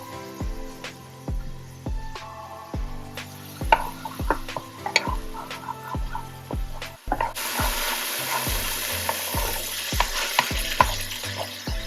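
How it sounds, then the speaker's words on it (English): Onion and green seasoning sauté in a hot pan, a steady sizzle running under rhythmic stirring and scraping clicks, with the frying growing louder and denser partway through. "So I'm gonna just let this saute for a little bit"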